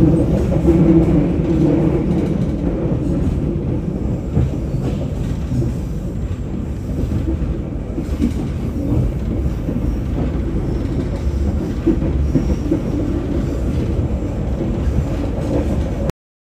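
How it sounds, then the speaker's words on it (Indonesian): KA Parahyangan passenger train on the rails, heard from on board as a steady, loud low rumble with faint mechanical rattling throughout. "ini kereta api Parahyangan lagi berhenti, kayaknya bersilang deh"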